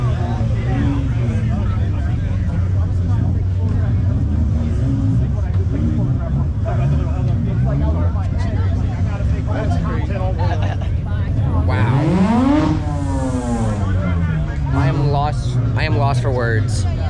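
Nissan GTR drag car engine revving loudly at a Texas car meet, a deep throbbing drone with a rising sweep of revs partway through, amid crowd chatter and people talking nearby.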